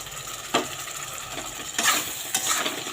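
Ginger-cumin paste is stirred into rice and potatoes frying in a pan, with a steady sizzle broken by several sharp scraping strokes of a spatula against the pan, close up and with no talking.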